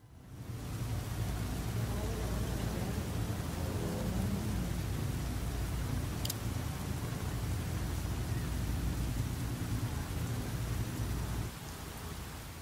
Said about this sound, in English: And what conditions are we going to be racing in? Oh, heavy rain.